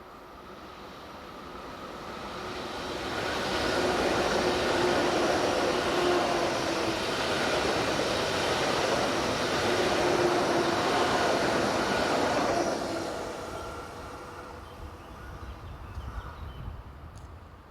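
A Swiss intercity train bound for Solothurn via Zurich, headed by locomotive 500-022, swells from a distance into a loud, steady rumble and rush of wheels and wagons, holds for several seconds, then fades as it moves away.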